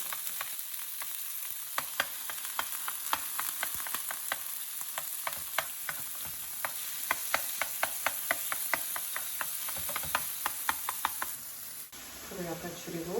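Tofu rice fries in olive oil in a pan, with a steady low sizzle under regular sharp clicks and taps of a utensil against the pan, close up, ending in a brief shift to a different rustling sound.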